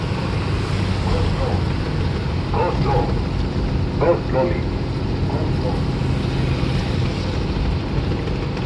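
A vehicle's engine drones steadily in top gear while it runs downhill on the Thoppur ghat road, a constant loud rumble with brief faint sounds rising over it.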